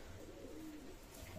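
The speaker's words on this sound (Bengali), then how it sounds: "মাশাআল্লাহ কবুতর ওমান ব্লাড লাইনের টেডি।" An Oman bloodline Teddy pigeon coos softly, a faint low murmur over a noisy background with no talk.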